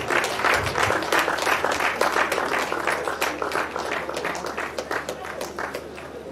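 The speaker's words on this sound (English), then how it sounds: "I'm not sure that round of applause is enough." Applause from an audience at an induction ceremony into graduate membership of the Nigerian Society of Engineers, a busy spread of individual claps that swells and thins over several seconds, with no clear talk on top.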